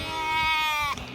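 A lamb on a Peak District sheep farm gives a single loud, wavering bleat about a second long, close to the microphone.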